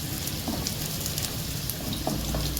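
Mini minced-meat kababs frying in a pan, a steady dense sizzle of hot oil crackling evenly throughout, close and fairly loud, with no voices.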